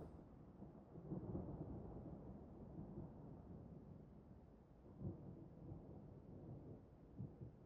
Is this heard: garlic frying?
no